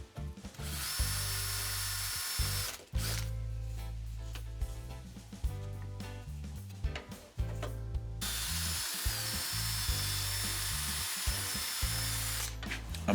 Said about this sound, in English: I'm just going to drill some holes in it